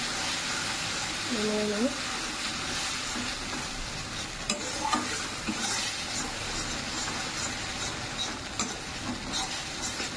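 A spice mixture frying with mustard-poppy seed paste, giving a constant loud sizzle with occasional spatula scrapes and clicks against the pan. A brief hum sounds near the start.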